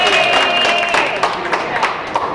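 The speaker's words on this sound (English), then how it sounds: "give yourself a round of applause" Audience applause after a call for a round of applause, a steady broadband wash of clapping with scattered louder individual claps, fairly close and sustained, tapering slightly toward the end.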